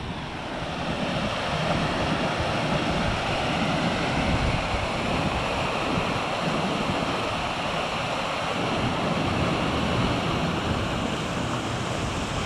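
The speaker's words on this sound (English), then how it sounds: "This must be a linn of some sort, but I don't know what it's called." A linn, a small waterfall in the Cheviot Hills, pours down. It gives a constant, dense rushing roar of falling water, steady and fairly close, with no speech.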